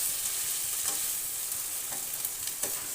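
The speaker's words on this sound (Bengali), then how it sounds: "সর্ষের তেল দিয়ে দিলাম, দিয়ে ভালোভাবে নেড়ে চেড়ে একটি পাত্রে উঠিয়ে নেব" Ridge gourd with poppy seeds sizzling in mustard oil, a continuous bright hiss with a few soft scrapes of stirring, close and fairly quiet, no one speaking.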